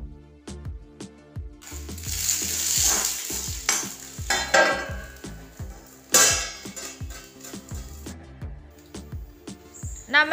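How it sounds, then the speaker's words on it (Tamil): Chopped okra sautés in hot oil in a pan, sizzling steadily while a spoon scrapes and stirs in a quick clinking rhythm, loud and close, with no talk. "நறுக்கி வைத்த வெண்டைக்காயில் அதை அந்த எண்ணெயில் போட்டு நன்றாக வதக்கி கொள்ள வேண்டும் கொஞ்ச நேரம்"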